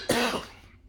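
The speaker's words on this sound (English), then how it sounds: "So you have to excuse me for coughing." A single sharp cough, close and loud, fades quickly into a quiet indoor room.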